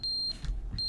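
Fire alarm giving sharp high-pitched beeps, two short tones separated by a gap, fairly clear against a low background rumble.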